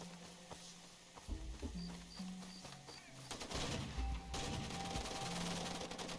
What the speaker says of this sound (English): I hear a gunfire, but he's all the way over there.